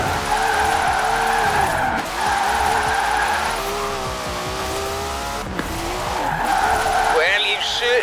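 Tyres squeal loudly and continuously as a car drifts in Forza Horizon 4, the long screech wavering with the engine, close and prominent, while a voice talks over it.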